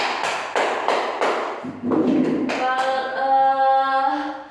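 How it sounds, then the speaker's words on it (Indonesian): Students applaud a correct answer in a classroom, starting with several sharp, evenly spaced claps close by, then a louder burst of group voices and sustained tones. "berikan aplaus"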